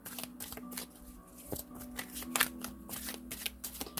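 Oracle cards are shuffled by hand before a tarot-style love reading, giving a steady run of soft riffling and slapping bursts with a few sharper snaps, close and moderately quiet with no talking.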